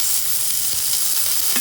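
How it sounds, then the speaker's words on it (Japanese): Meat sears close up in a pan during a camper-van cookout, a loud, unbroken sizzle and spatter with no voices. "まだ肉を初めて焼いたところだからねこれ"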